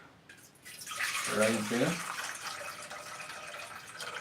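Water pours steadily into a dry cooking pot, making a continuous rushing splash for several seconds while a voice briefly speaks over it.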